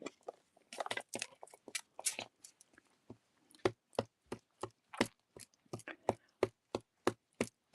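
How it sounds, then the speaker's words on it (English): Hot cinnamon licorice chewed close to the mouth, a long run of soft, regular wet chomps, irregular at first and then evenly paced, fairly faint with no talking. "I'm eating the hot cinnamon licorice that Rob brought me."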